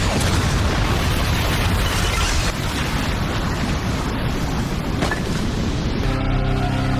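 A massive, sustained roaring blast fills the clip, deep and thunderous, with a rumbling tail that crackles and fades near the end.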